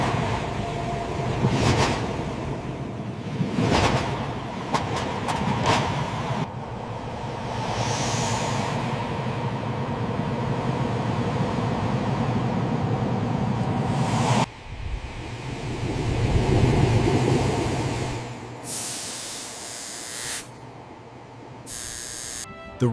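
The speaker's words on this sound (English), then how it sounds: "The completed train moves onto the engineering track to begin final high-speed" A newly built Shinkansen bullet train runs on an engineering test track for high-speed trials, making a continuous rushing hiss that swells and drops away, with sharp bursts of noise near the end.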